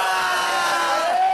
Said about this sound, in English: This crowd is going nuts, Rob Page.